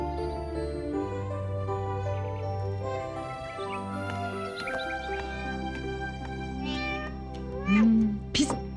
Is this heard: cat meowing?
yes